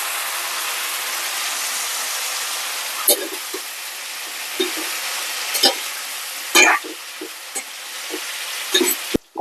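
Broad beans (goru chikkudu) stir-frying in a pan with onions, a steady close hiss of sizzling oil punctuated by a handful of sharp scraping and clacking spatula strokes, with no talking.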